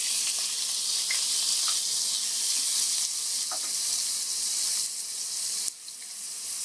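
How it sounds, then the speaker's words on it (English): Chopped onions hiss and sizzle loudly in a pan of hot oil with whole spices, a continuous bright frying noise with faint clinks, briefly dipping near the end. "I have just fried them for a minute, and now we will add our 2 chopped onions"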